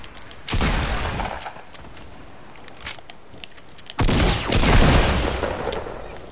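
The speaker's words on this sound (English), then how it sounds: "He's launching nades at me." Two heavy grenade blasts in a shooter video game each hit with a loud, broad boom and then rumble and crackle for a second or more, with a quieter gap between them.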